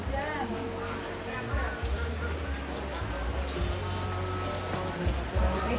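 Steady rain falls in Surabaya, a dense hiss of drops striking surfaces that runs through the whole stretch, with voices talking over it.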